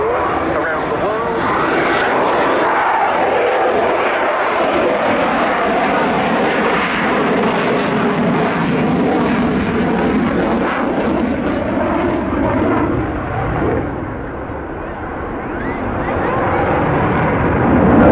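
An RAF air defence military jet on active service flies past, its broad engine roar swelling and holding loud throughout with a slight dip near the end, while someone talks over it.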